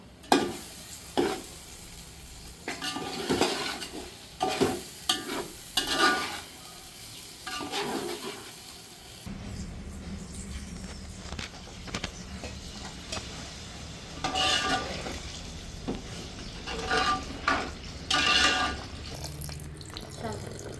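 Potato curry stirred in a frying pan, with repeated scraping and sizzling strokes near the mic, then a running-water wash of sound in the second half that carries on under the frying.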